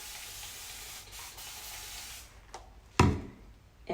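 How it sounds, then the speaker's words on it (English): A water spray bottle hisses in a soft steady mist onto curly hair, then gives a sharp, louder spritz near the end. "pick up that water bottle"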